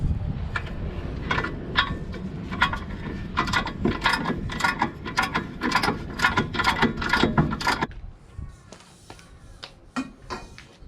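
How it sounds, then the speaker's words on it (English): Breaker bar with a 17 mm socket working the brake caliper bracket bolt on a car during a suspension swap: a rapid run of close metallic ratcheting clicks, then a few sparser clicks and clanks. "All right, for this one, I'm going to use this breaker bar."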